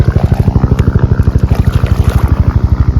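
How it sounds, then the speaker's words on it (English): A helicopter passes overhead above a river, its rotor thumping in a fast, even, loud pulse that holds steady throughout, with no voices. "We got some helicopter action here."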